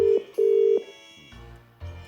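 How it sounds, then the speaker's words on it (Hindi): A telephone is dialed with a few steady beeping tones, then a low ringing tone pulses twice, alone and clear. "फोन मिलाओ"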